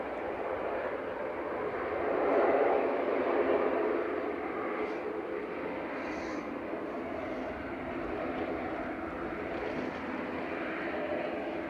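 A propeller aircraft at Manchester Airport passes at a distance, a steady broadband engine roar that swells slightly and then holds, heard without speech.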